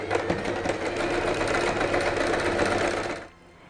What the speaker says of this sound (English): Give it a couple of passes over with the sewing machine so that it makes it a nice secure edge